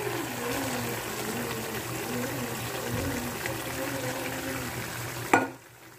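Cashews frying in a pan of Malvani masala with onion and coconut, a steady close sizzle that runs without a break and stops abruptly near the end.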